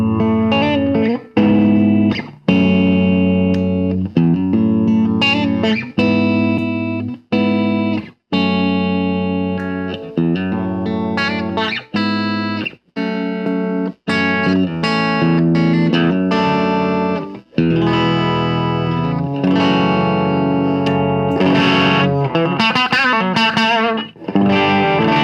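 A Gibson Les Paul Classic electric guitar played through a boost with distortion rings out in loud, sustained chords and single notes, broken by brief pauses between phrases, alone without talk.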